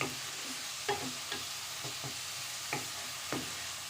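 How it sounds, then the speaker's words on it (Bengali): Onions being sautéed in a pan for katla fish kalia: a soft, low sizzle broken by several distinct scrapes and taps of a spatula stirring, fairly quiet and close. "তো চলুন পেঁয়াজটা কষা হোক"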